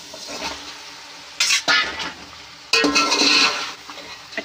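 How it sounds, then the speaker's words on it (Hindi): Small dolla fish being stirred into red masala frying in a pan, with bursts of sizzling and scraping that flare up twice and then settle into a steady fry. "अब ये फिश को हम मसाले में शामिल कर देंगे।"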